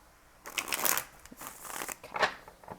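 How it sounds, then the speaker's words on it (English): Tarot cards are shuffled by hand in irregular papery riffles and soft slaps, rising and falling over a few seconds, close and clear with no talking. "We'll have one more shuffle"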